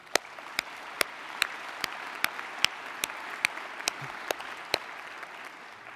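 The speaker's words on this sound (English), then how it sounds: "I want you to give yourselves another round of applause here." Graduates at a ceremony applaud in a broad, steady wash of clapping, with a few sharp, regular claps standing out close by, and faint talk underneath.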